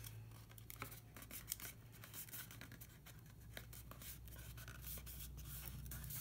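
Scissors snipping through paper or tape while crafting a curio cabinet, a quiet run of crisp rapid clicks and rustles over a low steady hum, with no talk.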